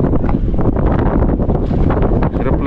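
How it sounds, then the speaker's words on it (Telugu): Strong wind buffeting the microphone outdoors during a drone flight, a loud continuous low roar with gusty fluctuations throughout. "చూసారు ఎంత గాలి వస్తుందో"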